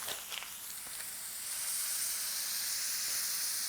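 A steak sizzles in a hot pan as butter goes in, a loud, bright hiss that builds and holds steady throughout, close up, with a few faint clinks early on and no talking.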